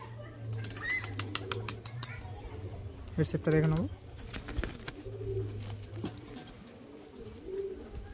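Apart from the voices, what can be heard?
Madrasi pigeon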